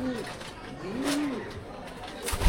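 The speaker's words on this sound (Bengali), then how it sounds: "এগুলো সবই মেইল কবুতর।" Racing pigeons in a loft give low, soft, drawn-out coos, a few phrases close by, with faint background noise and brief clicks.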